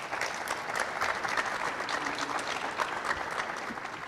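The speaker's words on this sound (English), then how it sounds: "Could we give a round of applause to him," An audience at a parish president candidate forum in West Baton Rouge Parish gives a sustained round of applause, with dense, even clapping from many people filling the room throughout.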